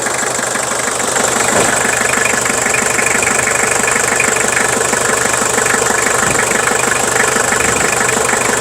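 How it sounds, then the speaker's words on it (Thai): A Toyota Mighty X pickup diesel engine idles steadily and loud, a continuous knocking rumble with a rhythmic clatter, close by and with no talking. "ฟังเสียงเครื่องยนต์นะ"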